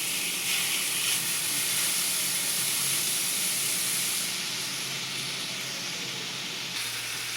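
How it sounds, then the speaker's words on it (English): Bacon sizzling in a hot pan, a steady bright hiss of fat frying that carries on without a break, close and moderately loud. "I'm going to add in my bacon. And I'm going to get that nice and crispy."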